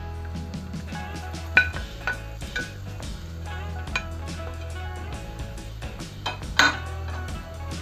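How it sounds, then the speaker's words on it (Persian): Fried eggplant goes into a cooking pot with clinks and scrapes of a spoon against metal, a couple of louder knocks among the clatter, over a soft steady hum. "حالا بادمجونایی که سرخ کردم رو بهش اضافه میکنم."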